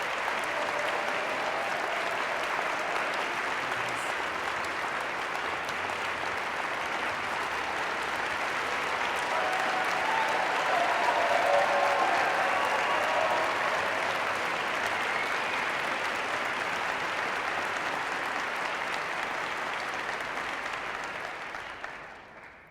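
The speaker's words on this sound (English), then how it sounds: "I wish I could applaud back as loudly as you just applauded in this direction" An audience at the 2012 Aspen Music Festival and School convocation applauds loudly and steadily for over twenty seconds, a dense wash of clapping that swells slightly midway before tapering off at the end.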